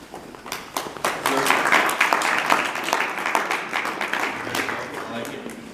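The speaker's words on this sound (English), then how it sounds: "a really big round of applause for West Park." An audience claps through a school district meeting, a dense patter of hands that swells and then fades slowly, with voices mixed in beneath.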